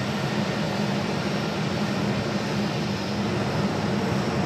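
An Airbus A320 airliner arriving from Santa Ana at Phoenix Sky Harbor produces a steady, broad jet roar that holds level throughout, with no talk over it.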